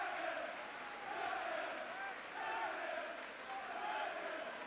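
An ecstatic home crowd of about 4,000 roars in sustained waves after an IBF cruiserweight title boxing fight in Middlesbrough, heard as a distant, continuous swell with a voice talking over it.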